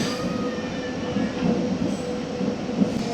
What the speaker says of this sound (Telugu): చెరువు మాధవరం నుంచి మన ట్రైన్ బయలుదేరింది.